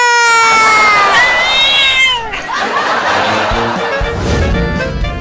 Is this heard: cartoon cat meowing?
yes